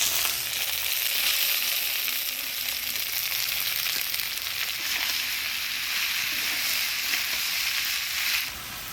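Chopped bottle gourd hitting hot oil with dry red chillies, whole cumin, bay leaves and ginger paste, giving a steady, loud broadband sizzle that holds for about eight seconds before easing slightly at the end.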